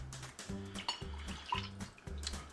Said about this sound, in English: So we're just gonna pour our anise first.